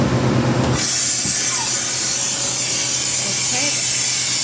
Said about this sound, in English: I press the cancel button, and then I open my valve here on the side